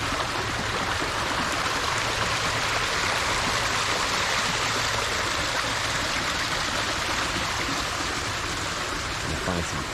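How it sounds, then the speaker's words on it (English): Small mini waterfalls on the grounds of the Langham hotel in Pasadena give off a steady, full rush of splashing water that stays constant throughout, with no break. "These little mini waterfalls here."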